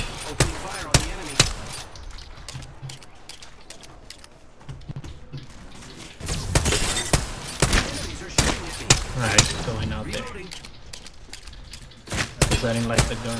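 Gunfire in the Apex Legends battle royale game: repeated sharp weapon shots, some in quick bursts, scattered through the stretch along with other game sounds, with game voice lines heard now and then.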